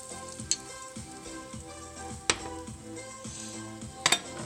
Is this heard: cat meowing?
no